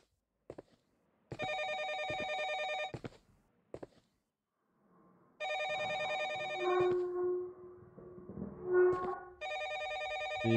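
An old-style telephone bell in the horror game Condominium rings in repeated long bursts separated by short gaps, loud and electronic, with thuds and other game sounds mixed between the rings.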